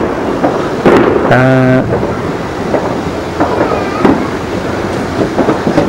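Distant booms and crackles of fireworks going off outdoors, with a brief whistling tone and a low background rumble.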